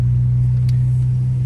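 A Porsche Panamera 4S (971) with a 3.0-litre twin-turbo V6 and PID exhaust rumbles at a steady idle, a deep, loud, constant drone close to the microphone.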